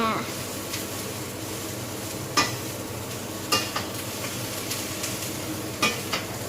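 Broccoli stir-fries in a pan with a soft continuous sizzle, punctuated by several sharp clinks and scrapes of a utensil against the pan, fairly quiet and close.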